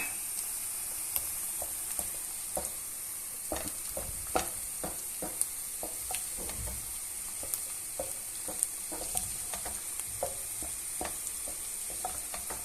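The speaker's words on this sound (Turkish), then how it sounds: "Şimdi ben tereyağını döküyorum." Butter poured into onions frying in a pan while making bulgur pilaf, a steady close sizzle with scattered pops and stirring scrapes throughout, no talking.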